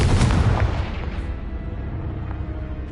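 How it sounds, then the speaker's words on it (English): Spell blasts from Confringo and Bombarda in the video game Hogwarts Legacy: a loud, deep explosive boom up front that settles into a rumbling, crackling tail, with no voices. "Confringo! Bombarda!"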